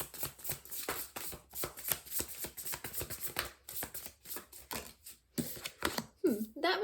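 Tarot cards being shuffled by hand, a quick run of crisp riffling flicks and soft slaps, close and moderately loud, with a voice speaking over parts of it.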